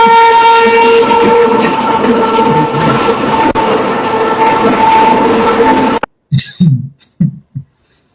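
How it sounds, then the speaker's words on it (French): A train rolls past on rails, a loud steady rumble with a sustained horn tone for about six seconds, then cuts off to scattered clacks and a faint voice. "Voilà le train."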